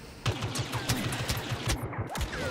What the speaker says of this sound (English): There's no actual ammo counter on any guns, they're all blasters.